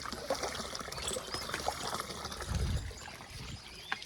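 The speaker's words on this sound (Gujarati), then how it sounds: "અહીંયા પોણી આવે છે તમે જોઈ શકો છો" Water trickles and pours steadily nearby, with a few faint clinks and a brief low thump partway through.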